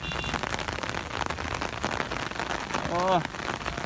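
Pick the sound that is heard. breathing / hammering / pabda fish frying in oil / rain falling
rain falling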